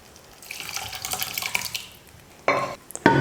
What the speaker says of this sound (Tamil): இப்போ இந்த புளி கரைசலை சேர்த்துக்கிறேன்.